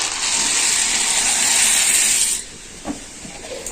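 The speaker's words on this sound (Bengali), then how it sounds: "এবার দেখুন এই যে ফুটতে শুরুও করে দিয়েছে" Sago boils in a pot of hot water, giving a loud, steady steamy hiss for about two seconds before it drops to a quieter background with a couple of small clinks.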